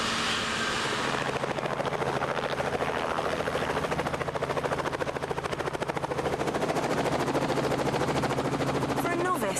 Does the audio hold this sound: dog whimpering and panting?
no